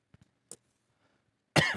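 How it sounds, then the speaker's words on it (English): A few small coughs early on, then a sharp loud cough burst at the end, close to the microphone. "Still struggling with a cough for some reason, so bear with me"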